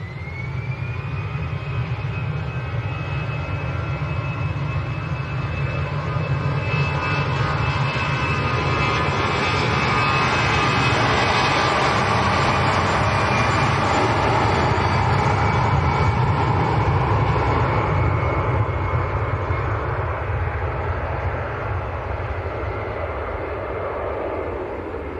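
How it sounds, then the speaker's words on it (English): A Ryanair airliner taxis at Manchester Airport, its engines giving a loud, steady jet roar and whine that holds close for the whole stretch, swelling slightly in the middle as it passes. "Ryanair coming down our favourite taxiway"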